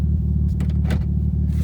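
Steady low idle rumble from a Mazda Roadster drift car with a welded diff, running close and even throughout, with a few faint clicks over the top.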